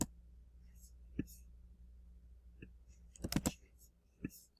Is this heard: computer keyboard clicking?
yes